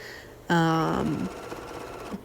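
Sewing machine running a short burst while top stitching hoodie seams, loud and close for about a second, then a quieter mechanical tail with no talk.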